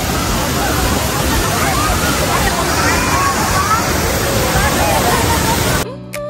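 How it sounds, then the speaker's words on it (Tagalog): Taytay Falls in Majayjay, Laguna roars as a steady, loud broadband rush of falling water, constant throughout before cutting off abruptly near the end. "Taytay Falls. Kaya lang yan sa Mahayhay,"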